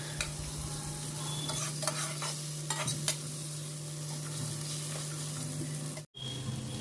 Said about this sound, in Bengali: মটরশুঁটিগুলোকে দিয়ে আরও ভালোভাবে একটু নাড়াচাড়া করে নিলাম